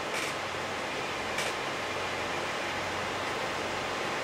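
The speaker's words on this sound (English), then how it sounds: "That's the sound of the 3285's fans maxed out" Steady broadband whoosh of graphics card fans spinning at maximum speed, loud and constant, with a faint low hum underneath.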